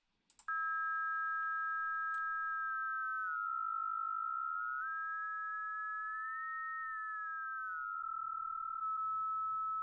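Two pure sine wave tones sound together against silence, one held steady while the other glides up and down near it. Where they sit close in pitch they beat and clash, and they hold clear and loud for nearly ten seconds.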